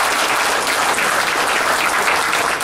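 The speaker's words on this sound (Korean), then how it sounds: "모든 청춘 합창단원들을 위해서 마지막으로 박수 한번 좀 보내주십시오" A forum audience gives a seniors' choir a final round of applause in a short burst of dense, loud clapping that fills the room without any voices over it.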